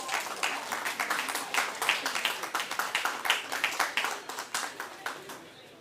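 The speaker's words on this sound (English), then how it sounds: "Let's welcome them with a huge round of applause." Audience applause greets dignitaries coming up to the dais at a chemistry department workshop's valedictory function, a steady run of individual hand claps that fades toward the end, with faint speech beneath.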